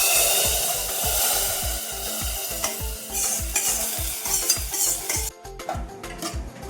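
Spice tempering with curry leaves poured into a pressure cooker of green peas curry, a loud crackling sizzle over rhythmic stirring knocks, close up, with clinks of utensils near the end.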